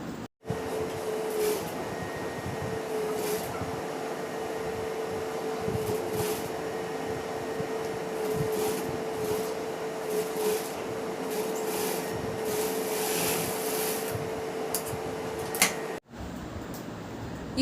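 A sewing machine stitches a fabric mask with a steady, continuous mechanical whir and faint periodic ticks, running alone until it stops abruptly near the end.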